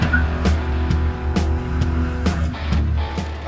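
Off-road vehicle creeping down the rocky 3N10 John Bull trail in Big Bear, California, its engine humming low and steady while repeated sharp knocks and clunks from rocks hitting the underside come at irregular intervals.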